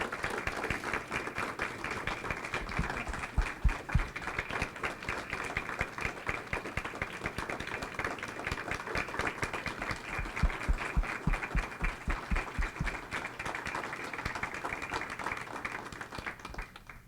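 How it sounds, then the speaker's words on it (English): A long, sustained round of applause from a crowd at an achievement awards breakfast, dense and steady with many overlapping claps at moderate volume and no talk. "we could go ahead and give another round of applause for all of our recognized folks."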